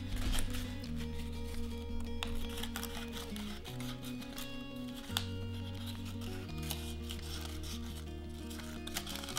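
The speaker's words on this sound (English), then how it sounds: "What we're going to do now is cut a basic petal shape." Scissors snip through crepe paper strips to shape flower petals, a quiet, soft rubbing and crunching under steady background music.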